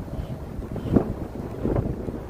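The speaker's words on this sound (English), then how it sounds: "A little bit windy in here." Low, rumbling wind buffets the microphone steadily at a Medieval Times dinner and tournament, with a couple of stronger gusts swelling briefly; no talking.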